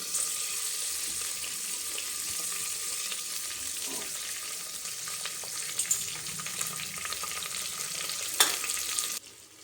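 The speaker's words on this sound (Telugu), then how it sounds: "పచ్చివాసన పోయేంత వరకు వేయించుకుందాం" Ginger paste and chopped tomato frying in a pan for vegetable rice, a steady close sizzle with occasional stirring scrapes and clinks, ending abruptly.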